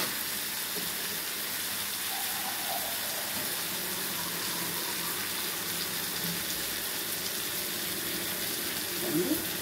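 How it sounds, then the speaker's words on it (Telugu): Water pours steadily into a cooking pot holding drumsticks for a mango curry, giving a continuous close hiss and splash with no break. "వాటర్ పోస్తున్నామండి"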